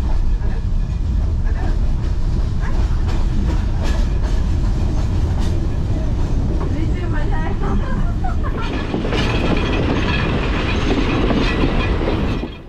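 A train rumbles loudly across Nine Arch Bridge in Sri Lanka, heard from on board an observation coach as a steady roar with clickety-clack wheel rhythm and wind, with voices of people in the background.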